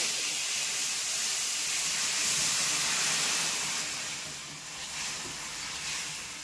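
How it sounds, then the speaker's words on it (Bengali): Vegetables, tender stalks and potato, hit hot oil with cumin in a wok, giving a loud, steady hiss of sizzling that gradually eases slightly, with no voices. "তো দিয়ে দিচ্ছি এবার আমি কড়াইতে, আমার তেল গরম হয়ে গেছে, জিরাটা হয়ে গেছে, এবার দিয়ে দিচ্ছি"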